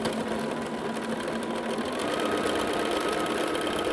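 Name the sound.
sewing machine stitching quilt block seam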